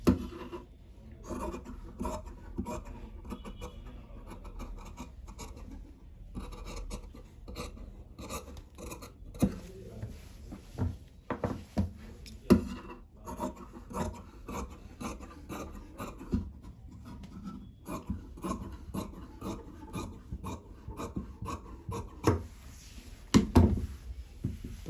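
Scissors cutting fabric for a pattupavadai, a close, quiet run of rasping snips and rubbing strokes, irregular in rhythm with brief louder clicks toward the end.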